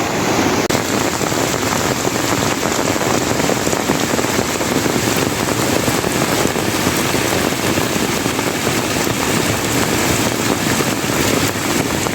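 Heavy monsoon rain pounding down in Konkan amid flooding, a dense, loud, unbroken downpour that holds steady for the whole stretch with no voices.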